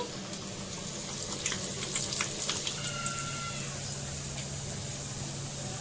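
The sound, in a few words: sweet corn vada frying in oil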